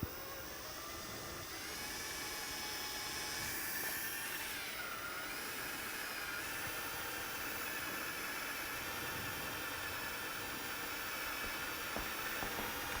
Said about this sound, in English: It's a nice speed for those drill bits.